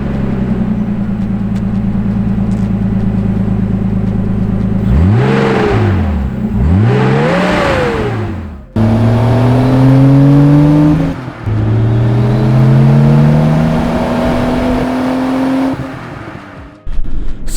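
A Nissan R32 Skyline turbo engine revs hard and close, climbing and falling in pitch through several loud surges, then holding rising tones as it pulls.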